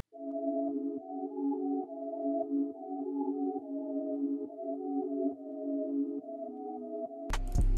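Jupiter 8 Ariana Chords synth preset in Analog Lab, dry with no effects, repeating sustained chords in a steady pattern with soft note attacks, ending in a brief loud burst.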